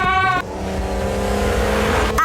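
A racing car engine in a Lightning McQueen video game revs hard and accelerates, a loud sustained roar with rising pitch that carries through the clip, with a brief tonal chirp at the start and a short squeal near the end.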